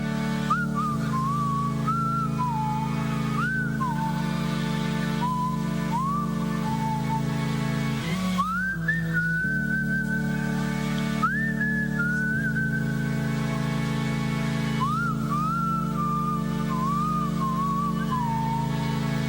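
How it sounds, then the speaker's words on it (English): Someone whistles a wavering melody alone, phrases rising and falling with short pauses, over a steady low hum. "And then he started whistling."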